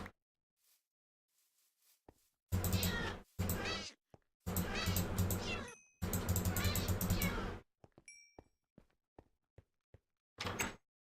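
Cats meowing in Minecraft (Agrarian Skies modpack): a few close, loud bursts of game noise separated by quiet gaps, with short faint clicks and chirps between them.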